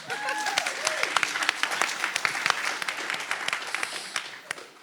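A UK patient conference audience claps for a sustained stretch. The crisp, individual claps are fairly close and distinct, with a brief voice at the start.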